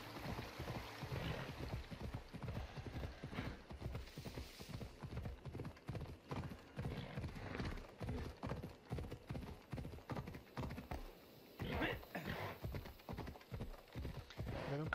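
Horse hooves clip-clop steadily in the Assassin's Creed Odyssey video game, a brisk rhythmic trot close up, with someone speaking intermittently over the hoofbeats and ambient game sound beneath.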